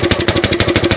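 Small gasoline engine on a 20-ton log splitter running on choke, loud and close, with an even, rapid pulsing beat and clattery mechanical chatter throughout, no talking.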